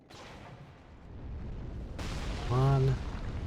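A ballista in Dark Souls 3 fires at a giant worm: a heavy, booming launch strikes suddenly after a low rumbling lull and leaves a broad, rolling roar, with a brief voice sounding over it.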